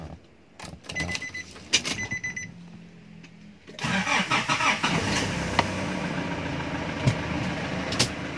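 Nissan Navara common-rail diesel engine cranks briefly after a few clicks and key sounds, then catches and settles into a loud, steady, rattling idle close by.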